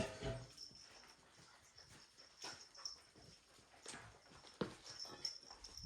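Puppies at a farm whimper and yip softly, with several thin, high-pitched whines scattered irregularly through a quiet scene, faint and close by without any speech.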